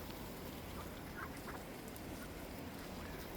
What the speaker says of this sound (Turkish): Sap Tony Soprano'nun ördekleri